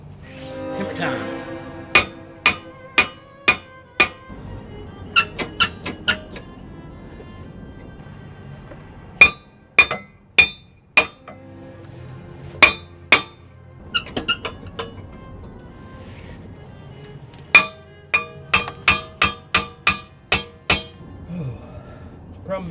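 A hammer strikes the brake rotor of a Lincoln Town Car in a garage, a long series of sharp metallic clanks arriving in quick bursts and clusters, each hit ringing briefly before the next.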